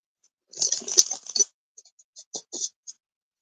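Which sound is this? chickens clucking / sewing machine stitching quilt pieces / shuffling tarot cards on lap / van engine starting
shuffling tarot cards on lap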